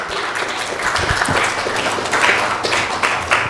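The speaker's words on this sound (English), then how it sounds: "I think we can do better with a nice round of applause." Listeners at a talk on Vaishnava dharma give a round of applause, a continuous, fairly loud patter of many hands clapping together throughout.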